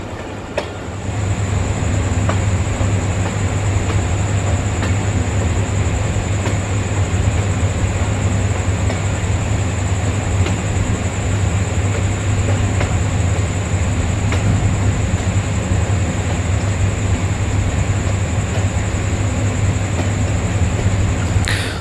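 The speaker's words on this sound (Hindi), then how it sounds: "और फिर आहिस्ता आहिस्ता अपनी स्पीड पकड़ रही है फ्रीज एक्सप्रेस।" The Fareed Express passenger train rolls and gathers speed with a loud, continuous rumble and faint wheel clatter, plus a steady high whine held throughout.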